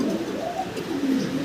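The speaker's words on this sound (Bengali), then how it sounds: "সাদা বিউটির দামে মাত্র 2000 টাকায় ব্ল্যাক এই জার্মান বিউটি হুমার জোড়াটা।" Black German Beauty Homer pigeons coo softly and steadily nearby, a low continuous throaty murmur with no voices over it.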